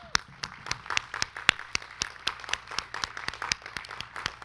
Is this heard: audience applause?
yes